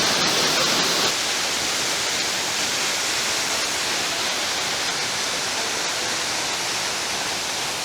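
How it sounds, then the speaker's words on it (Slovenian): The 18-metre-high third waterfall in Pekel gorge roars as a constant, broadband rush of falling water, loud and close, unbroken throughout, with a brief brighter hiss at the start. "pridemo pa že do 18 metrov visokega lepotca, tretji slap."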